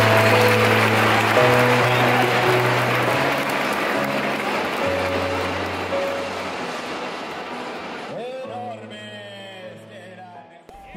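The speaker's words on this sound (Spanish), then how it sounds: "Más aplauso, por favor" A crowd applauds a new Spanish champion, loud sustained clapping layered over a low droning tonal sound. The clapping fades out toward the end, leaving the tones and some faint squeaky noises.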